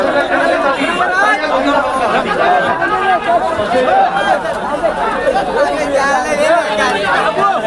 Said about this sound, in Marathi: बघा नाश्त्याला गर्दी